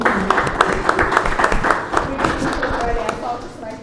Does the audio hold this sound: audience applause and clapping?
yes